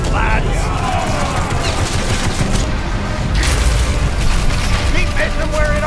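Incoming cannon fire in the VR naval combat game BattleWake: dense, continuous booming and rapid blasts over a steady roar, with shouted voices talking over the barrage throughout.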